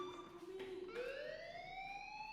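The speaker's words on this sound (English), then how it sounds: "Hey, do you hear that fire alarm? That means you should be outside." A school fire alarm in the Life Is Strange video game sounds as a faint, steady electronic wail whose harmonic tone sweeps upward and holds, quiet and distant under soft background noise.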